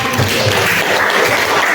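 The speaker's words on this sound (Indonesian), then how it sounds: "tepuk tangan untuk Nesa" A group claps for a student named Nesa during a classroom session, a brief burst of dense clapping that fills the short moment.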